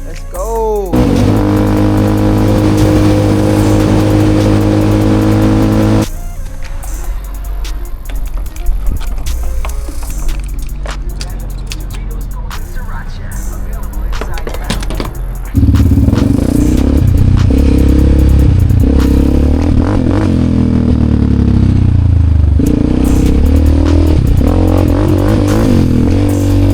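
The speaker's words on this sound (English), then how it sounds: "We got the new exhaust installed." Ford Raptor truck fitted with a new dual exhaust, revving loudly in bursts, with a deep rumbling tone that drops back and then swells again near the end.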